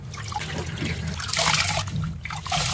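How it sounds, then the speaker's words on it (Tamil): A second pour of water goes over ration rice being washed, a close trickling and splashing that swells midway and continues with soft sloshes. "இப்போ நம்ம ரெண்டாவது தண்ணி ஊற்றி கழுவுறோம்"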